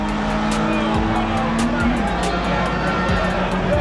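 A Toyota Corolla launches at a drag racing event, its engine revving hard through quick gear changes with sweeping pitch drops, loud and close, with tire noise and crowd sound behind it.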